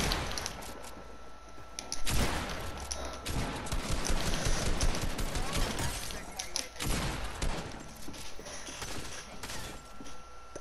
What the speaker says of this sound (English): I tried to shoot Javi and I shot Chokies